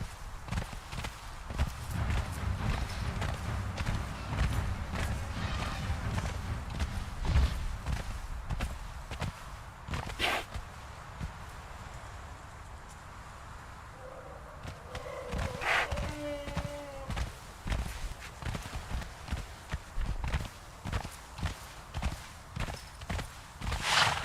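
Rhythmic horse hoofbeats in the video game Conan Exiles clip-clop steadily, speeding into a rapid gallop, fairly close, with a brief whinny-like call midway and no talking.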